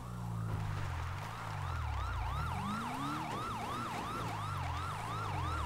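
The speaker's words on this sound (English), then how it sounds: "Do I hear sirens? I hear sirens." Video game police siren in a roleplay traffic stop, wailing and cycling rapidly up and down in a fast yelp pattern over a low rumbling engine, fairly close and continuous throughout.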